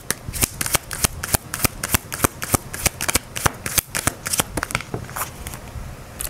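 Tarot cards shuffled by hand in a steady run of crisp riffling snaps, close and fairly loud with no talk, easing into softer sliding at the end.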